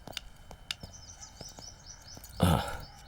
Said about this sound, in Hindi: पंछियों के चहचहाने की आवाज है